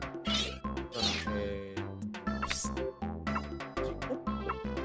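Meowth's cry in the video game Pokémon Snap, a string of tonal, cat-like meows rising and falling in quick succession with backing music, fairly close and clear.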